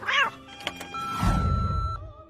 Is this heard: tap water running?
no